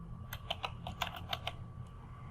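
Keys clatter on a computer keyboard as a username is typed, a close, quiet burst of about a dozen quick clicks in an uneven rhythm, then a pause, with no talking.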